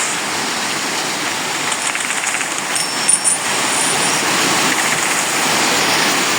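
An aircraft in a multiplayer video game gives a steady, broad roaring wash of engine noise that holds evenly throughout, with a slight swell near the middle and no voices.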